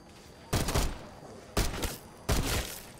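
Three loud, evenly spaced pistol shots ring out in Black Ops 6 Zombies, each a sharp crack with a brief booming tail, over a low game background.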